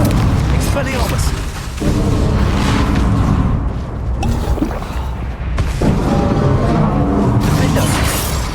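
Repeated heavy booming blasts from the Confringo blasting spell in a Harry Potter video game roll out loud and rumbling, several bursts in a row with a voice speaking over the din.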